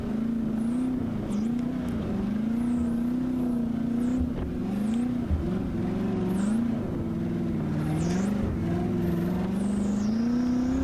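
A Buick 350 V8 swapped into a Prius runs steadily on an offroad trail, a loud, continuous engine drone that rises and falls with repeated revs and throttle changes throughout.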